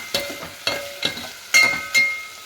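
Tomatoes added to softened onions in a pan for Gujarati dal dhokli, stirred in five distinct scraping strokes about half a second apart, each with a brief soft sizzle, close and quiet with no talking.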